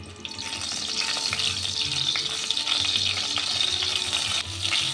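Steady, crackling sizzle of spices frying in hot oil, continuous and close, with occasional soft pops throughout.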